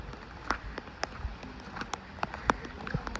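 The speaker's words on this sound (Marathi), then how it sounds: "आता पावसाने जबरदस्त एंट्री मारली" Rain falls on freshly planted rice paddy fields in the Konkan, scattered drops pattering softly with distinct little ticks over a low, steady wash.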